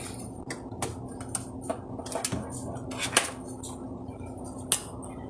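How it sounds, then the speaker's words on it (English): Pot of coke and beer BBQ beans lifted from a home oven, scattered sharp clinks and metallic knocks of cookware and oven rack over a quiet background hum. "I will take them out of the oven with you so you can see how beautiful they look"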